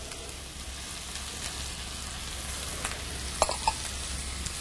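Diced celery and leek cook in a pot as the base for a lobster bisque, giving a steady, quiet sizzle with a few faint stirring clinks near the end.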